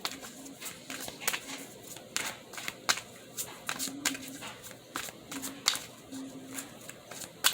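Oracle cards shuffled by hand for a reading, a quiet run of soft, irregular riffling and tapping strokes close by.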